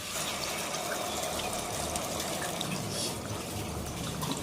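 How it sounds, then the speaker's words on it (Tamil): Tamarind water poured into a cooking pan for a bitter gourd thokku, a steady soft splashing stream running throughout at low level with no talking. "இப்போ நம்ம புளி தண்ணி கரைச்சி வச்சுருக்கேன், இதை நம்ம ஊற்றிக்கலாம்"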